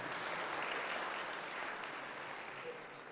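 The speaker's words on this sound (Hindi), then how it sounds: "तो उन सभी प्रतिभाओं के लिए एक बार जोरदार तालियां हो जाए।" Audience applause at an award ceremony honoring community talent, a steady, dense wash of clapping that holds loud through the clip and eases slightly toward the end.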